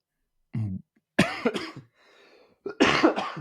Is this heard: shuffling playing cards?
no